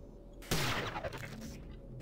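A sudden loud burst of gunfire in the PC game Prey crackles and echoes for about a second, then trails off into a low background hum.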